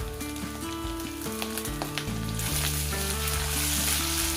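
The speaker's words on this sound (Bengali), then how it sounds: "পেঁয়াজটাকে ভালো করে ভেজে নেব একটু নুন দিয়ে, যাতে কাঁচা ভাবটা না থাকে।" Onions fry with salt in a pan, a steady close sizzle broken by occasional stirring scrapes, with no talking.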